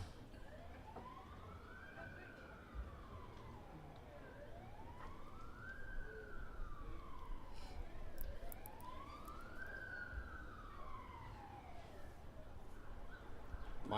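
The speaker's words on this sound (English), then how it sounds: "might be hearing a few sirens" A wailing emergency siren rises and falls in slow, regular sweeps, faint and distant beneath a low background rumble during a cricket one-day cup match.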